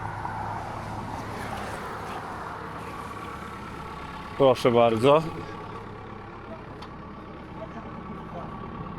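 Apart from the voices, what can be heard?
excavator left with its engine idling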